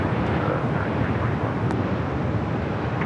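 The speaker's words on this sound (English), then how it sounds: "We do have a Dreamliner on short funnel for 24 right." A brand-new Boeing 787-9 Dreamliner on short final for runway 24 right at LAX gives a steady, broad, hollow roar that holds at an even level for the whole stretch, with no voices over it.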